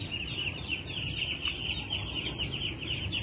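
Muscovy ducks (entok) make a continuous low clucking chatter with a steady higher twittering layer, close and fairly loud for the whole stretch, with no talking.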